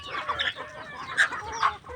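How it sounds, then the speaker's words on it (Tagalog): Several short, bright clucks from chickens being fed come in scattered bursts over a low, steady background, fairly close by. "Papakain na si William ng mga alaga niyang manok"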